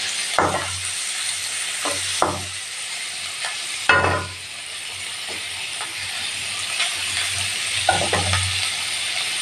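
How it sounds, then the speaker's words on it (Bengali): Chicken pieces fry in butter in a pan with a steady, soft sizzle, broken by a few sharp stirring scrapes and clicks; no one speaks. "এটা একটুখানি আমি এখন ভেজে তুলব ভেজে তুলছি ভেজে তুলে দেখাচ্ছি এই যে ভাজা হচ্ছে"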